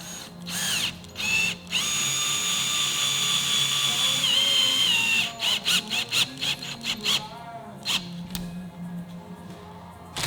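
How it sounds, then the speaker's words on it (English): A power drill whines in long, steady bursts, then stutters in short pulses as screws are driven in while installing a roof fan on a Sprinter van, close by with no talking. "Drilling."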